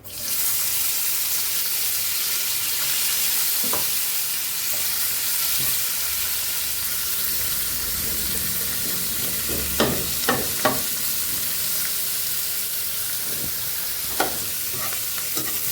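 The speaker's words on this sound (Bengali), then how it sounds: "পেঁয়াজটা লাল লাল করে ভাজি করে নেব" Steady loud sizzling of onion frying in hot oil, with occasional scraping and clinking of a spatula as it is stirred.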